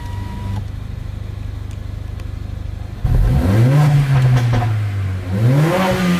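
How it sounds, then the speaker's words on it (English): A Mercedes GLA45 AMG, engine still cold, idles with a low steady hum, then a loud close rev rises sharply, holds, dips and climbs again in repeated throttle blips. "Should I do a rev real quick? I'll do a rev."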